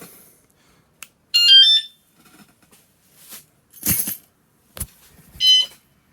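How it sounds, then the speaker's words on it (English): A KPR 200 motorcycle alarm gives a short electronic warning beep, a bright tonal chirp lasting about half a second, then a second similar chirp a few seconds later, with light knocks and clicks in between. "So that was the first warning beep."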